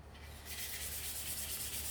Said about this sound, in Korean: 사포질 꼼꼼하게 해주세요.